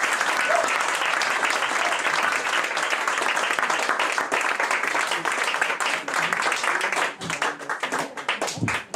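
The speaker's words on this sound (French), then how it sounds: "on applaudit un grand, mesdames et messieurs" An audience claps after a poetry reading at an evening spoken-word show, the applause dense and sustained before thinning into scattered claps, with voices briefly rising underneath near the end.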